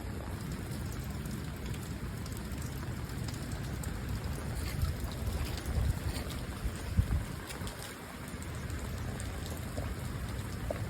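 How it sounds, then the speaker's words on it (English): Steady rainwater rushes continuously through an outdoor drainage channel into a drain as rain falls, a broad wet hiss with faint patter like rain on a surface, no voices. "water can then start flowing through and down over to the drain and relieve itself."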